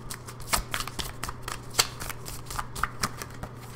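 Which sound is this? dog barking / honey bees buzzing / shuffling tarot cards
shuffling tarot cards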